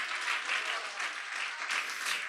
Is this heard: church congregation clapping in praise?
yes